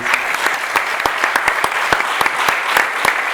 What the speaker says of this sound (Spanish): Un fuerte aplauso para ti.